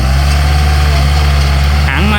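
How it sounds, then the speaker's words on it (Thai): A 2017 Kubota L5028 tractor with a four-cylinder engine runs loud and steady at idle with a deep, even hum, and a brief voice briefly rises over it at the very end. "ตัวนี้เป็นเครื่องยนต์ขนาด 4 สูบนะครับ"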